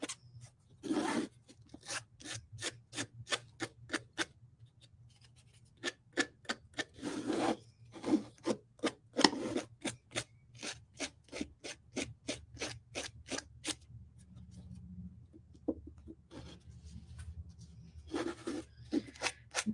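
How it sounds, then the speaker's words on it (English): Quick rhythmic scratchy strokes of sandpaper on paper napkin glued to a craft star, in bursts separated by short pauses, close up and fairly quiet. "Just sanding the napkin part."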